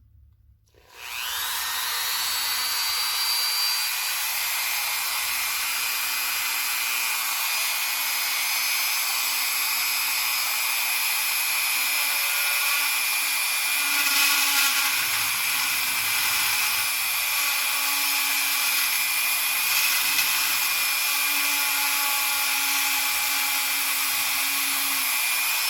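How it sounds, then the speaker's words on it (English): Electric drill boring out a hole in soft plastic on a 1999 Chevy Silverado, a steady high whine running continuously close to the microphone with slight changes in pitch and load. "then we'll be back after I get done drilling this hole out."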